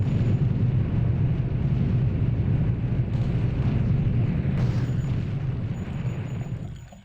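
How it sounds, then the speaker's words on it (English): Underwater explosions in the video game Blood: Fresh Supply, a continuous muffled, rumbling boom that stays loud and dense before fading away at the end. "I like how explosions are properly muffled and even sound somewhat dramatic underwater."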